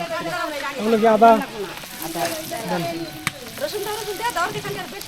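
Ginger, garlic and other ingredients sizzle faintly in a pan beneath prominent conversation between several people.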